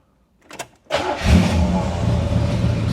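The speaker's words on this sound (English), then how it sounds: "Let's start her up." A 1972 Oldsmobile Cutlass convertible with a 350 cubic inch 5.7 liter V8 cranks briefly, then fires and settles into a loud, close, rumbling idle with no talk.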